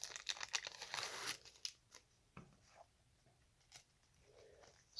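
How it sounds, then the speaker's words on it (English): Soft crinkling of plastic and tape, a brief rustle followed by a few quiet taps and presses, close by and faint. "we're going to put it on our plastic bag."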